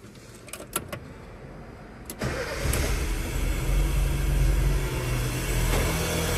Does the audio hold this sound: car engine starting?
yes